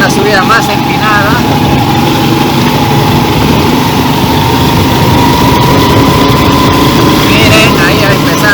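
A 150 cc motorcycle fitted with a 125 carburetor climbs a steep, muddy hill, its engine droning loud and steady with a high buzzing whine throughout, while people talk over it.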